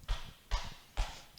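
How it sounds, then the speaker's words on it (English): Feet stamp on the floor at a children's storytime: three dull, evenly spaced thumps in a quiet room, no talking. "Can you stamp your feet?"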